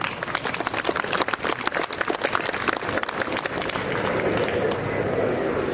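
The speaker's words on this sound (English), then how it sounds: "a round of applause for all of them, please" Applause from an audience at a Philippine community gathering, with distinct sharp claps early on that blend into a denser, softer wash of clapping toward the end.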